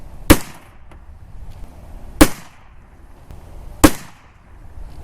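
Three sharp, loud Carcano rifle gunshots fired at a range, evenly spaced about two seconds apart, each a crisp crack with a short tail over quiet background.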